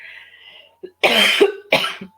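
A person coughs twice in close succession, harsh and loud up close, after a brief quiet murmur.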